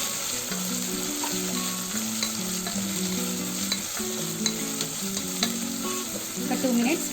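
Green chillies and mint fry in a pan with a constant, close sizzle and crackle, broken now and then by stirring scrapes. No voices are heard.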